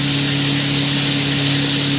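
Kashmiri chili and coriander powder dropped into hot oil give a continuous loud hissing sizzle, close up and unbroken for a couple of seconds.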